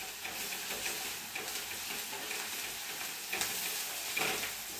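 Chopped onion, bay leaves and ginger-garlic paste sautéing in a pan, a soft, fairly faint sizzle with gentle crackles and occasional stirring scrapes, steady with no voices.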